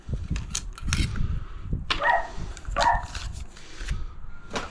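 A dog barks a few times, sharp and fairly close, amid clattering and thumping noises from cutting a power point hole, with short pauses between the barks.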